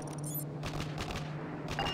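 Sentry turret in Modern Warfare 3 rattling off bursts of automatic gunfire, several quick volleys with short gaps, fairly faint behind game ambience and a steady hum.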